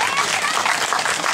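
Applause at a nursery school graduation ceremony in Čechovice for the teachers, a dense, steady burst of clapping from many hands throughout, with voices mixed in.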